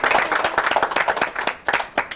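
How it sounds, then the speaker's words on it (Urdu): A studio audience claps and applauds for a third-place contestant on a morning TV show, a dense burst of many hands lasting a couple of seconds. "آپ کی زوردار تالیاں"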